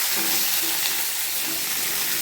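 Green chilies and curry leaves fry in hot oil for a tempering while being stirred, a loud, continuous bright sizzle with soft scraping underneath, heard alone and close up.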